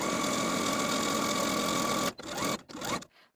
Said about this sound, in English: take these ties to the sewing machine and edge stitch those folded edges together from one end all the way to the other